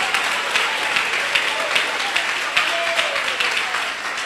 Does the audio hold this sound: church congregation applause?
yes